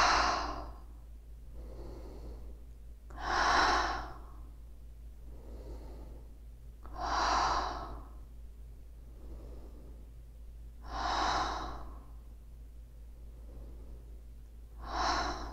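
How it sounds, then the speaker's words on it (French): Paced breathing in through the nose and out through the mouth during a standing energy exercise, four strong close exhales spaced roughly four seconds apart with soft nasal inhales between, steady and rhythmic in a quiet room. "Inspire par le nez, expire par la bouche."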